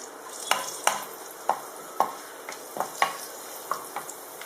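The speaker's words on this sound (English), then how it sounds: "I'm adding the green chilies, cinnamon, cardamom and cloves. And curry leaves" Green chilies, cinnamon, cardamom, cloves and curry leaves fry in oil and ghee for an Andhra-style mutton liver fry, with a steady close sizzle broken by repeated sharp scrapes and clinks of a spoon stirring the pan.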